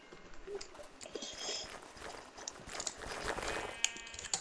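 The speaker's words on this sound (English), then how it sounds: "A lot of sheep to kill, so." Sheep in the Minecraft video game bleat a few times amid a busy game soundscape with clicks and ambient noise, moderately loud against a steady background.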